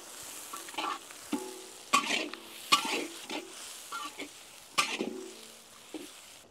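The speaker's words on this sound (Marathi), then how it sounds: "आपण आता कांदा व्यवस्थित परतून घेऊ हलका कलर चेंज होतोवर।" Onion sautés in a pan with whole spices, a soft crackling sizzle punctuated by several scraping stirs of a spoon against the vessel, close and fairly quiet.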